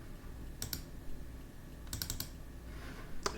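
Keys clicking on a computer keyboard in a few short bursts of typing, quiet and close, with no one talking.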